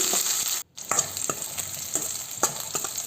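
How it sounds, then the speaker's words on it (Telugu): Onions and curry leaves fry in hot oil for a drumstick and mango sambar, a bright steady sizzle broken by a short pause and repeated spatula scrapes and taps close by. "వేగిన తర్వాత ఆనియన్స్ వేసి దోరగా వేయించేసుకుందాం. తర్వాత 1 రెబ్బ కరివేపాకు వేసుకున్నాను. బాగా ఫ్రై చేసుకుందామండి."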